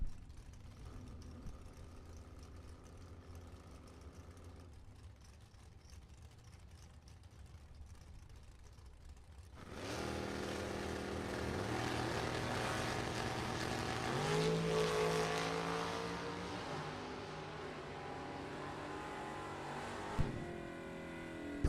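Drag race cars at the starting line, a dragster against a red and black two-tone Chevrolet Corvette Stingray, in a close race; a quiet idle first, then a sudden loud roar of engines launching and pulling away that sustains to the end.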